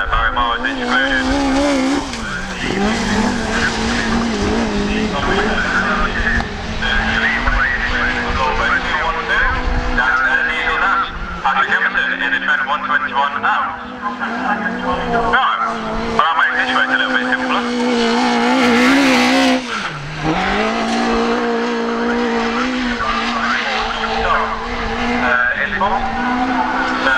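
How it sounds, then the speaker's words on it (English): Two autograss race cars racing on a dirt track, engines roaring loudly and continuously with rising and falling revs and occasional tire skids throughout. "Autograss 5 rerun, so this is 2 car race now, as Barry Moore is excluded."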